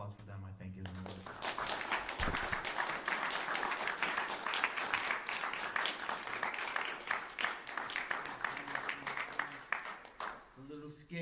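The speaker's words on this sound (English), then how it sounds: "So another round of applause for them, I think, is in order." Audience at a community evening program breaking into sustained applause, a lively field of many hands clapping that swells after a short musical lead-in and fades as a piano note returns.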